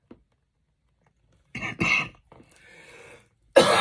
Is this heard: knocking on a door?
no